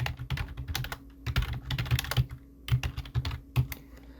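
Rapid typing on a computer keyboard with irregular clusters of close, crisp key clicks and brief pauses, including heavier Enter key presses, no talking.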